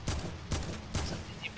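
Video game gunfire: three sharp shots spaced about half a second apart, each with a ringing tail as bullets strike a wall, loud and close, with no talk over them.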